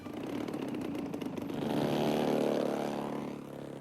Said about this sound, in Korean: 전자장비와 엔진 점검을 마친 비행기가 하늘을 향해 서서히 날아오른다.